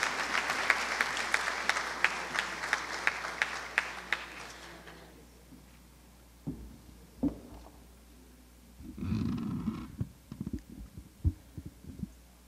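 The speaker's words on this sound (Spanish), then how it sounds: "Un aplauso, por favor." Audience applause at a university graduation ceremony for a tourism administration class fills the opening five seconds as a dense, steady roar of clapping, then fades out, leaving scattered soft thumps and shuffling in the hall.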